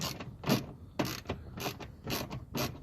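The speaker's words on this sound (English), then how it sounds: "Take this last bolt out." Bolt being backed out of a Chevy Silverado mirror mount (2007-2013 truck) during tow mirror installation, heard as repeated close ratcheting clicks in short bursts, roughly every half second, with no talking.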